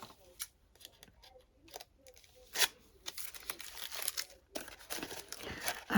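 Scissors snipping through paper for a handmade sketch book, a few crisp irregular cuts with crinkling and rustling of the sheet, close and fairly quiet.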